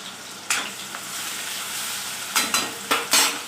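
Mustard seeds, cumin, onion and turmeric sizzle in hot oil for a tempering, a steady close frying hiss broken by several sharp spattering bursts and pops.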